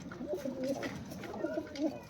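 Fancy helmet pigeons coo in soft, repeated rounded calls close by, several throaty coos rising and falling over about two seconds, with a faint background hiss.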